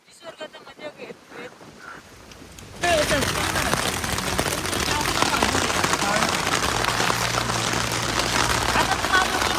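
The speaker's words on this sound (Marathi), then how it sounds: "पाऊस पडतो हे बघा" Steady, loud rain hisses at a riverside campsite during a downpour, kicking in abruptly after a quieter opening stretch and then continuing as a dense, even wash of noise, with people talking faintly in the background.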